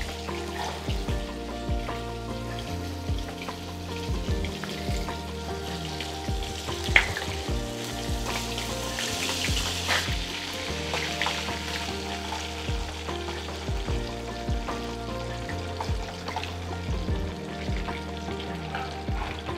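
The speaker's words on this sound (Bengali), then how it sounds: "একদম গোল্ডেন ফ্রাইড চিকেন কাটলেট।" Chicken cutlets fry in hot oil with a steady close crackling sizzle and occasional clinks and scrapes of a utensil, continuous and without talk.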